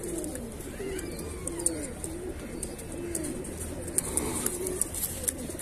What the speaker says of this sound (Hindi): एक कल्पना काली दुम का कबूतर है